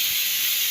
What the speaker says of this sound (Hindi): इसमें उबल रहे हैं पालक